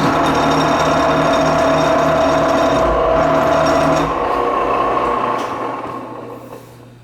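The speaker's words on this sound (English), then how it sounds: "After I'm done boring the holes on this side" A boring machine cutting holes in metal, a loud, steady mechanical whir and grind with a sustained tone that drops off partway through and winds down as the machine slows.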